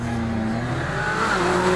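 A Ferrari 458 Speciale V8 sports car drifting on a mountain pass road gives a sustained loud engine drone whose pitch shifts and climbs partway through, with no speech.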